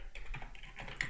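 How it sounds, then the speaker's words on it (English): Quick, light keystrokes on a computer keyboard, an uneven patter of soft clicks heard close and quiet for about a second with no voices. "where I'm typing in another editor"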